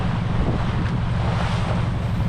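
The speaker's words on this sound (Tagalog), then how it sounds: "Ang lalaki ng alon." Heavy ocean waves and strong wind batter a small boat at sea during a typhoon, a loud, rough rush with wind buffeting the microphone.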